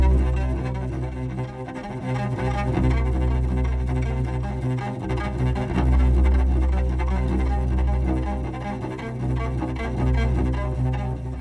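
Musical riff, a dense, repeating phrase with strong low bass and layered tones, played steadily and loud for several bars without any voices.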